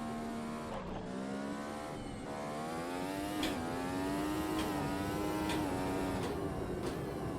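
A classic Formula 1 car in Automobilista 2 at Montreal 1988 screams steadily, its high engine note rising and dipping through gear changes with sharp shifts, loud and close with no talking.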